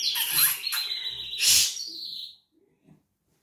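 Pet birds chirping indoors, bright high tweets and trills in two loud bursts with a sustained whistle between them, then fading to near quiet with a few faint peeps.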